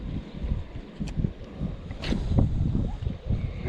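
Gusty wind buffeting a microphone beside a local canal while bass fishing, a low steady rumbling roar with uneven surges and a few faint clicks.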